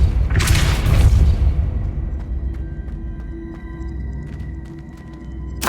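Depulso spell in Hogwarts Legacy releasing a deep, loud boom with a bright whooshing burst at the start, then a low rumbling decay with faint background tones.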